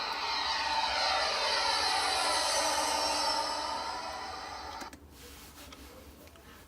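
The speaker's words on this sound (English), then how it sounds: "Now I have my jet sound." Jet aircraft sound effect, a loud rushing engine roar with shifting whine that sustains, then fades and cuts off abruptly near the end, leaving quiet background hiss.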